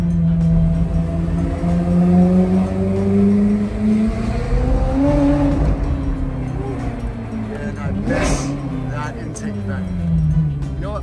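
A Ferrari 430 Scuderia engine runs close by, its loud droning note holding and swelling in a few rising and falling sweeps, with a brief sharp burst near the end.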